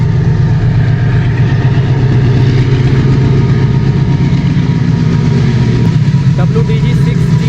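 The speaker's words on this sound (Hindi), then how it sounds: "और एक ये मालगाड़ी आ रही है," An empty freight train hauled by a WDG 6G diesel locomotive draws near on the Delhi Ring Railway at Sewa Nagar station, its steady loud engine drone and rumble filling the scene continuously.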